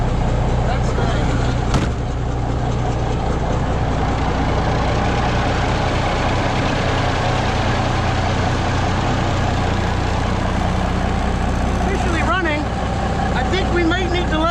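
A 1975 cab-over heavy rescue truck idles with a steady, low, rumbling drone that runs throughout, while people talk nearby.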